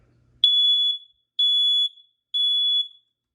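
Large 9120B smoke alarm, a newer unit, gives three loud, piercing high-pitched beeps of about half a second each, evenly spaced and close by, with no voices over them.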